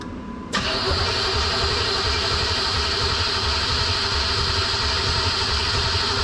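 A 1987 Chevrolet Camaro IROC Z with a stuck throttle cranks and catches, then runs loud and steady at a high, unwavering idle close to the microphone.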